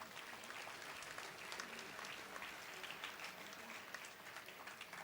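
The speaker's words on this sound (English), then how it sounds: "Let us now put our hands together and give a huge round of applause." A round of applause from the audience at an inter-religious meeting in a basilica, a continuous, even wash of clapping heard from a distance at low volume.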